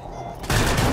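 Rapid gunfire erupts in Rainbow Six Siege, a loud, dense burst of shots starting abruptly midway and continuing to the end over a low background rumble.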